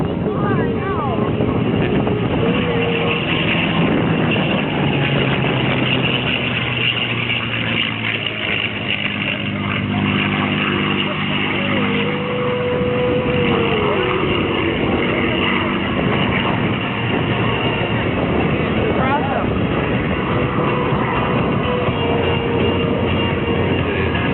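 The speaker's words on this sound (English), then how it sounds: "Let's listen. Big V12 engine in the P-51 Mustang." A P-51 Mustang's V12 piston engine drones loudly and steadily in a flyby, its pitch shifting slightly as it passes, with heavy wind buffeting throughout.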